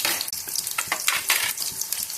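Green chillies sizzle steadily in heated oil for a chicken and palak curry, a close, dense crackling with brief louder spits and stirring scrapes throughout.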